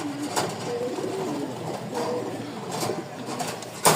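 Pigeons of Rajshahi Giribaz and other flying breeds coo softly in a loft, low repeated throaty calls close by with light rustling and no speech.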